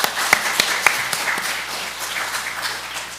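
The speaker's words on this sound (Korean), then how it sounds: "서로에게 또 하나님께 영광의 박수 한번 올려드렸으면 좋겠습니다" A church congregation claps together during a worship service, a sustained wash of applause with a few sharp individual claps near the start, fairly close and without talk over it.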